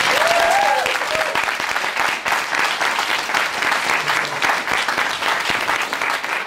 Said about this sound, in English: a big round of applause for Gino DCampo again